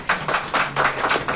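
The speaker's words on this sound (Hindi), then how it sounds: "एक बार तालियां" An audience breaks into a short burst of clapping, a dense patter of many hands that rises and falls in quick pulses for just over a second, close and fairly loud.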